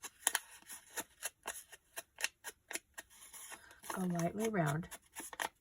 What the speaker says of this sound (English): take your zigzag scissors and cut the edges